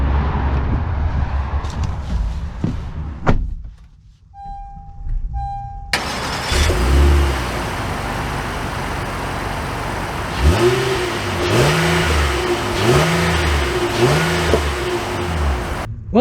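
Engine of a 2022 Honda Ridgeline RTL starting up, then settling into a steady drone and rising through several revving pulls as the truck accelerates, heard from inside the cabin.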